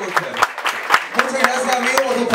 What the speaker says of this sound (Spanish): fuerte el aplauso a la espectacular Kendra Campbell